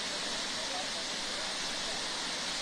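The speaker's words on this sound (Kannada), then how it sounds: "171 ಅಡಿ ಮೇಲಿನಿಂದ ಧುಮ್ಮಿಕ್ತಾ ಇರುವ ಜಲಪಾತದ ನಯನ ಮನೋಹರ ದೃಶ್ಯ" Gokak waterfall near Belagavi, swollen after rain, plunging 171 feet: a steady, dense roar of falling water fills the scene without a break, broad and constant like close rushing noise.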